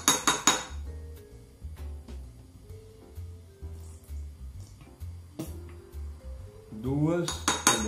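A spoon scoops ketchup into a bowl, making a series of light clinks and taps of metal on dishware, with quiet gaps between them and a louder clatter at the start and end.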